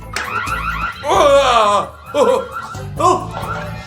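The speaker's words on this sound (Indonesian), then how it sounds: "Alarm, teman-teman." Warbling electronic car alarm sounds in loud repeating bursts, with voices and laughter mixed in.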